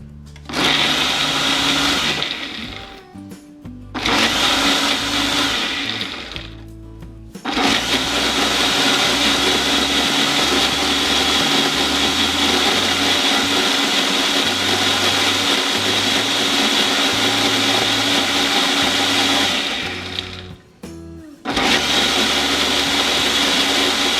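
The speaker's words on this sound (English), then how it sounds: "I'm just using a Ninja blender here." A loud Ninja blender whirs close by blending marinade in long bursts, briefly stopping and restarting twice, its motor a steady high-pitched roar while blending.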